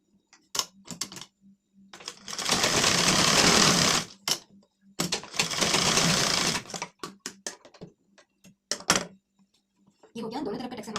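A sewing machine double-stitching tucks on a lined blouse, running in two sustained whirring bursts and several shorter runs, with clicks and taps between them while someone talks at times.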